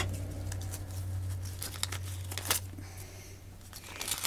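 A sticky mail envelope is pulled and torn open by hand, with close crinkling and short tearing bursts over a steady low hum, no speech.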